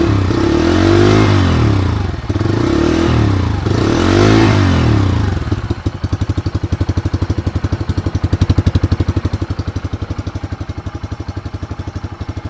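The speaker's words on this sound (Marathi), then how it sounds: "गाडीचा एक्झॉस्ट साऊंड कशा पद्धतीचा आहे तो आपण ऐकणार आहे।" A 125cc CNG motorcycle runs loud and close through its silencer exhaust, with several strong revs in the first six seconds, then settles into a steady, rapid putt-putt firing idle.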